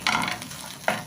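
Coconut flakes fry in a pan on the stove as they are stirred, two soft bursts of scraping and sizzling, close and quiet.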